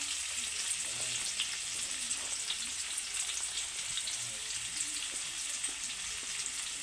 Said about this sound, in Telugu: ఆనియన్స్ అయితే ఇలా బ్రౌన్ కలర్ వచ్చిందాక వేయించుకుందాం